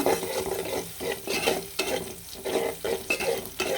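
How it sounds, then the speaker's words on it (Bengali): Garlic and onion fry in hot oil for a chicken and vegetable dish, a close, steady sizzle with stirring scrapes that swell and dip in a rough rhythm, with no voices. "আর এখানে দিয়ে দিলাম তেলের মধ্যে রসুন আর পেঁয়াজ"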